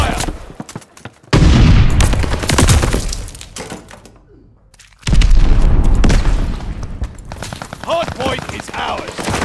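Heavy gunfire and blasts during a Call of Duty Vanguard Hardpoint match: loud, dense bursts of shots and impacts that drop into a short lull near the middle, then erupt again just as loudly.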